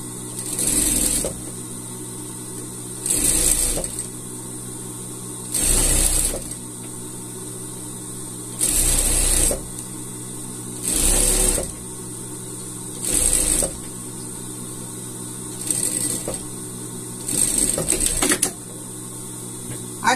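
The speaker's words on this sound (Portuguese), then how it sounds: "vamos passar uma costura aqui, de fora a fora, até aqui" A sewing machine runs a seam across fabric for a gaúcho pala outfit for a pet, in about nine short whirring bursts with brief pauses between, close and steady.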